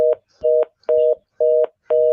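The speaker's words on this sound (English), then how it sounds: "This is the sound that hardly anybody ever hears on their phone any longer, is a busy signal." A telephone busy signal pulses loudly and steadily, five evenly spaced tones with short silences between them, with no other sound.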